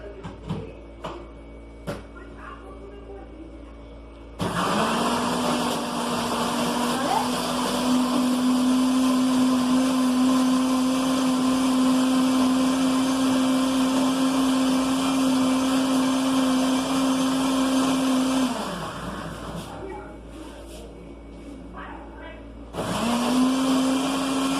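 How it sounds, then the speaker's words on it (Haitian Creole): A blender whirs loudly and steadily through a hair treatment mixture for about fifteen seconds, winds down, then starts up again near the end, with faint talk and clatter before and between the runs. "On va blender là"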